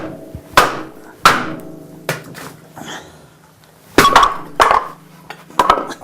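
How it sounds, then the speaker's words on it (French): Wood being split into 2 cm slats for boxmaking by a Vallorbe box maker rings out as sharp, loud cracking blows, about eight separate strikes spaced irregularly with brief ringing tails between them. "je vais vous montrer comment on le fend d'abord"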